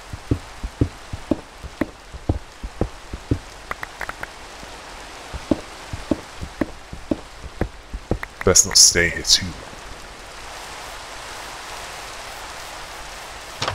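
Minecraft rain falls as a steady hiss throughout, with footsteps tapping in the first half, a brief louder burst near the middle, and someone speaking briefly over it.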